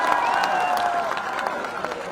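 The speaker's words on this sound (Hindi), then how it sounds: "ताली बजा के स्वागत करें" A rally crowd in Jaipur breaks into steady, sustained applause, dense clapping filling the space with some voices underneath.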